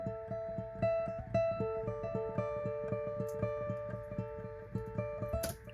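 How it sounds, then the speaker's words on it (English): An electric guitar layer with an echo effect picks out repeated notes in an ambient setting, each pluck trailing into soft repeats that blur into a steady, shimmering pulse at a quiet level. "then I put the echo on"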